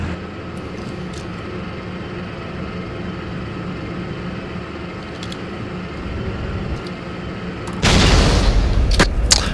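A tank cannon in the Steel Beasts Pro simulation fires once with a sudden loud broadband blast near the end, following a long steady rumble of engine and ambient battlefield noise.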